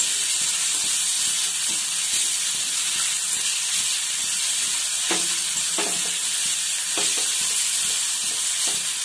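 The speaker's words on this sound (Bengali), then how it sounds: "আমি দিয়ে দিচ্ছি টমেটো কুচি এটাও একটু নেড়ে চেড়ে নরম করে নেব" Chopped tomatoes are stirred in a hot frying pan. A loud, constant sizzle and hiss runs under occasional scraping strokes of the spoon against the pan.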